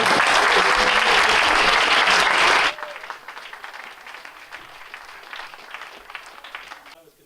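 A burst of loud audience applause at a book launch lasts under three seconds and cuts off sharply, leaving faint room noise and light scattered sounds.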